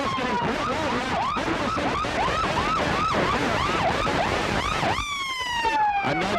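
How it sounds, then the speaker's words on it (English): Police sirens wail at the 1999 International Day Parade, loud and close, with rapidly cycling yelp tones swooping up and down, then shifting to a long steady wail near the end. "The sirens kind of washed him out."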